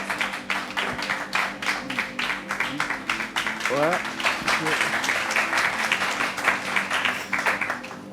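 Studio audience applauding on a French TV game show, steady clapping throughout with voices talking over it and a short musical flourish partway.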